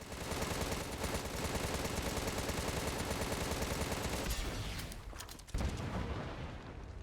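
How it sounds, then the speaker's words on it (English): Sustained rapid machine gun fire in Contra: Rogue Corps, a dense loud rattle that runs for several seconds, breaks off briefly, then resumes with a heavy MIRV rocket blast. "overheat the machine gun and then fire the MIRV again"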